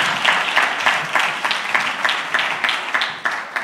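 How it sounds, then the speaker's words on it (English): Audience at a prophetic church conference clapping hands together in a steady, dense wash of applause, evenly loud throughout with small swells, no voices standing out. "Can you clap hands for them?"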